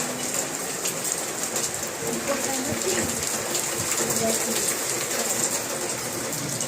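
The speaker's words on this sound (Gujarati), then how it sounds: "કેટલો વરસાદ છે તમે જોઈ શકો છો" Steady rain pours down in a broad, continuous hiss, with occasional faint bird calls in the background.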